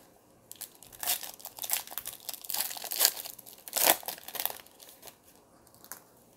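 Foil pack of 2017-18 NBA Hoops trading cards torn open, bursts of bright crinkling and tearing rising and falling over several seconds, close and fairly loud with no talking.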